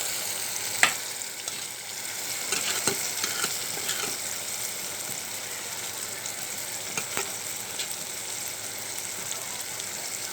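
Small kechki fish frying in a pan, a low continuous sizzle with occasional faint ticks and clicks of a utensil, quiet and close, no voices.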